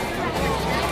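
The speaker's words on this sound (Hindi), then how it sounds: "भीड़ देखो" Dense crowd chatter at a temple on Holi, a continuous murmur of many overlapping voices under brief nearby talk.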